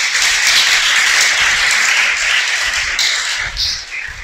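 A worship congregation breaks into loud, sustained applause, a dense mass of clapping hands that holds steady and then tapers slightly at the end.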